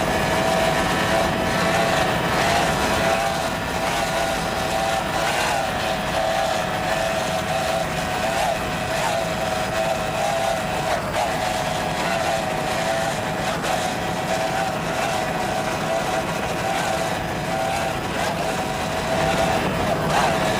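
Two Mercury 2.5 EFI outboard engines drive an offshore racing boat at a Miami Grand Prix, a continuous loud whining drone that holds steady throughout, with a sustained tonal buzz.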